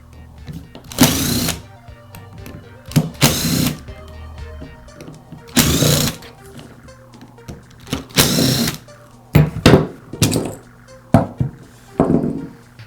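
A cordless screwdriver or power tool backs screws out of the gearbox housing on a Makita angle grinder, in short close whirring bursts separated by pauses and light handling clatter.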